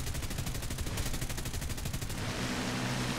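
Rapid automatic cannon fire from a Lincoln Mk.II bomber in War Thunder, a dense rhythmic stream of shots for about two seconds that then gives way to a steady engine drone.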